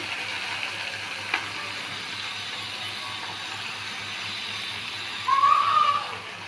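Chili paste fries in a pan with egg in a soft, steady sizzle and a few light stirring knocks, and a brief high whistling tone rises near the end, with no talking.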